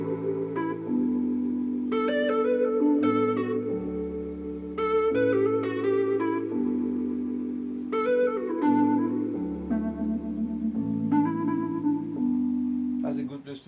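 A soulful R&B beat section in an Afrobeat-style production, with sustained synth or keyboard chords over a deep bassline and bright melodic stabs, playing continuously and loud to the end.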